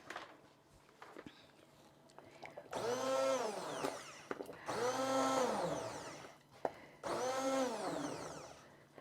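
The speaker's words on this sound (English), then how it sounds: "I love these immersion blenders." An immersion blender whirs through coconut lentil soup in three loud, sustained bursts, its motor pitch rising and falling as it churns, with short pauses between runs.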